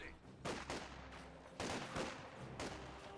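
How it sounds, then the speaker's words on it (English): A penal squad of riflemen fires in a Company of Heroes 2 battle, several sharp bursts of rifle and machine-gun fire cracking at irregular intervals, faint and somewhat distant. "Penal squad here firing away"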